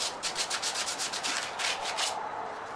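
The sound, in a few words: sanding wood by hand with sandpaper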